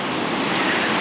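Ocean surf washing onto a fishing beach, a steady broadband roar of breaking waves with some wind, loud and continuous with no talking.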